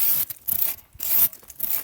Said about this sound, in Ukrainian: Я спеціально пиляв в одну сторону, щоб порахувати.